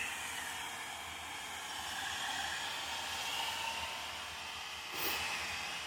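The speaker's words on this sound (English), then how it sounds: "using the old hair dryer trick to" An old hair dryer blows a steady, loud whooshing hiss at frozen water pipes under a trailer at a campground to melt the ice, with a brief surge near the end.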